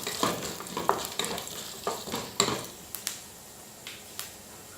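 Urad dal and chana dal frying in hot oil in a pan, giving a constant close sizzle broken by irregular spoon scrapes and light knocks as the lentils are stirred, with no voices.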